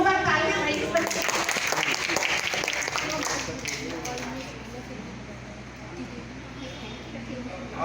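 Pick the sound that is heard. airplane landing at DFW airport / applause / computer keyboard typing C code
applause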